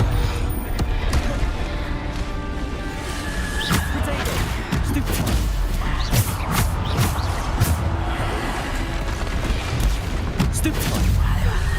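Bombarda explosion spells and combat blasts in the Hogwarts Legacy video game, with repeated booming impacts and bursts over a dense, continuous battle din while a person talks throughout.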